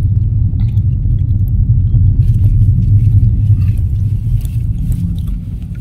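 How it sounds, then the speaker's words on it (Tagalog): Road traffic in Manila, a loud continuous low rumble of vehicles heard from inside a moving car, with faint clicks and no talk. "Traffic."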